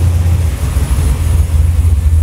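An engine idles with a rebuilt Holley 4150 Brawler carburetor, giving a steady low rumble with a faint pulsing throb, loud and even throughout with no talk.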